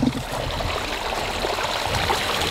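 Stream water flowing steadily into a micro hydro intake, an even, close rushing wash with no break across the whole stretch.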